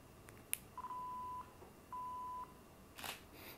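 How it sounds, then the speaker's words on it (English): Nikon D5200 camera in two-second remote timer mode, triggered by an ML-L3 remote: a click, then two evenly spaced electronic beeps about half a second each, followed by the shutter firing, quiet and close. "So 2 beeps for 2 seconds."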